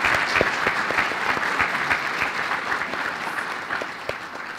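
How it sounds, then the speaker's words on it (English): A conference audience claps steadily at the WOLFcon 2020 plenary session hosted by Texas A&M Libraries: dense, even applause that holds for several seconds with no voices over it. "So just a round of applause for them having us."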